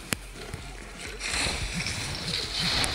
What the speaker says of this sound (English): Oh, hit with the water bomb.